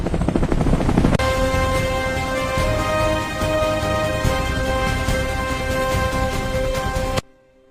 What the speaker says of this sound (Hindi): ये क्या हेलीकॉप्टर?